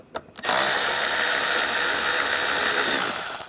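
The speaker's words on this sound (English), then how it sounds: "Loosen up the worm clamp, use an 8mm socket." A power tool with an 8mm socket whirs steadily for about three seconds, loosening a worm clamp on a hose in the engine bay of a 2010-2016 Cadillac SRX, loud and close, then winding down.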